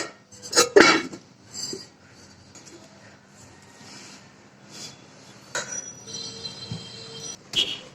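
A small metal pot and its lid are handled, making a few sharp clinks and clanks spaced out among quieter rustling, with one loud knock near the start and more near the end.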